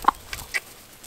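Chickens clucking by a backyard compost heap, a few short soft clucks spaced apart, faint and fairly close, with no talk.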